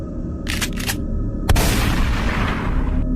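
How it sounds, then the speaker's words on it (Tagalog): A few short sharp knocks, then a single loud blast with a rumbling tail that fades over a second or two, heard close. "isang putok ng baril ang umalingaw-ngaw"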